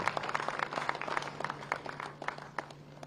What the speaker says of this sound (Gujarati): આવો તાળીઓના ગરગડાટથી આ ડોક્યુમેન્ટ્સને આપણે બધા સ્વીકારીએ છીએ